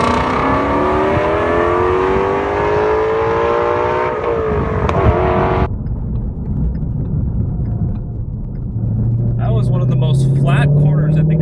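2017 Ford Mustang Shelby GT350 engine revving hard while driving, a rising high-pitched howl toward its 8250 rpm redline that cuts off at a shift, then a lower rumble and another climbing rev, with light talk from the driver.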